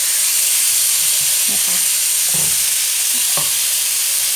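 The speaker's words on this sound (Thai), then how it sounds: "เราตั้งกระทะให้ร้อนนะคะใส่หมู3ชั้นลงไปค่ะ" Pork belly frying in a hot wok for a Thai pineapple pork soup, a loud steady sizzle filling the clip, with a brief spoken word and a few faint clinks.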